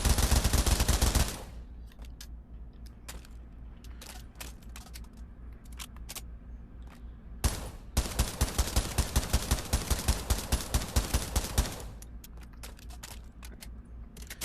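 A fully automatic gun fires in the VR shooter Pavlov Shack: a dense opening burst, a pause with scattered single shots, then a long rapid string of evenly spaced loud reports, no talk.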